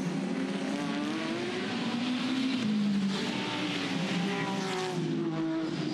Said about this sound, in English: Just love listening, Tony, to the different array of engines, 11 different manufacturers